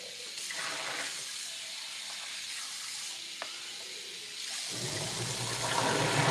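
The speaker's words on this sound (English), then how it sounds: "clean these dishes real quick." Tap water running into a kitchen sink while dishes are washed, a broad steady rush that briefly clinks, then grows fuller and louder toward the end, with no voices.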